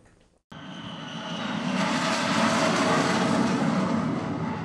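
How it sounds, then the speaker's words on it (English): An F-35 fighter jet takes off at a Florida airbase: after a brief quiet moment the engine roar cuts in abruptly and builds into a loud, sustained, broadband thunder that holds steady. "our very unscientific sound test of F-35s taking off at the airbase, also in Florida"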